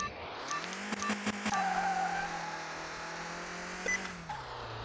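A race car in a Car Mechanic Simulator 2021 drag race, engine throttled up to a sustained high-revving drone that holds steady, then drops in pitch at the end, with a few sharp clicks at the start.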